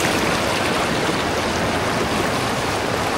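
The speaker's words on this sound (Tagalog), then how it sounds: "Itong ilog nandito lang sa tabi." A river flowing right beside a campsite at Coto Mines in Masinloc, Zambales, a steady close rushing of water with no breaks, loud and broadband throughout, with no voices.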